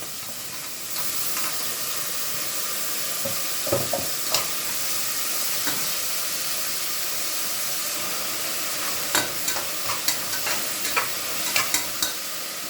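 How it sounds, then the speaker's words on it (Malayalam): Tamarind is sautéed and stirred in a pan for a mutton coriander curry, with a loud continuous sizzle and repeated spatula scrapes and knocks close by. "പുളി നന്നായി വഴറ്റിയിട്ടുണ്ടെങ്കിൽ അതിലേക്ക് തക്കാളി ഇടാം"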